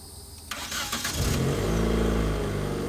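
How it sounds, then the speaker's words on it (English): A Nissan car engine cranks and catches after a brief quiet moment, then settles into a steady, loud, close-up running hum that continues to the end. "Now we have to start it up to do a baseline and see how it runs normal."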